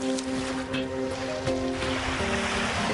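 Ocean waves wash onto a beach on Mykonos, Greece, a continuous soft surf with a steady low tonal hum underneath, no voices over it.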